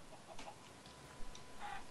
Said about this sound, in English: Oh, there's a couple chickens over here.